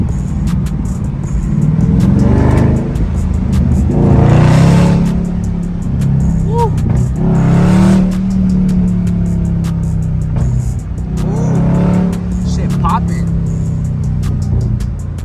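Car fitted with an exhaust that has its mid muffler deleted, revving in a city in repeated rising and falling engine sweeps, loud and close, with crackling pops between throttle blips.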